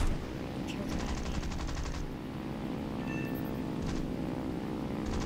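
Aircraft machine-gun fire in the War Thunder combat game, rapid repeated bursts over constant engine drone, loud and close, with a short pause between volleys.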